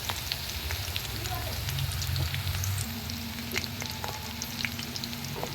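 Crushed garlic frying in a pan over a low gas flame while okra curry is being made, a steady close sizzle and crackle running throughout with occasional stirring noises and no talking.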